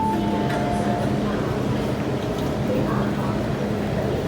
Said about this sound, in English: Here it comes on the M train.